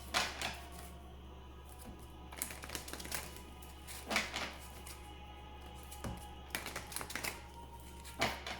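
Oracle cards shuffled by hand in a quiet room, soft papery riffles and taps coming in short bursts every couple of seconds over a low steady hum.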